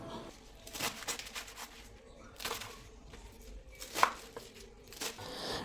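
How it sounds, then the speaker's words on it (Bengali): Taro leaves are cut into small pieces on a board, with irregular knife chops and soft leafy rustles, fairly quiet and close, separated by pauses. "কচু পাতাগুলোকে বেছে নিয়ে এবার একটু ছোট ছোট করে কেটে নেব"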